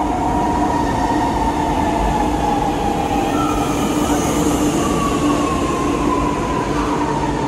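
A Chennai metro train rolls steadily along, its continuous rumble and hum loud and close throughout, with faint tonal whines rising and falling over the running noise.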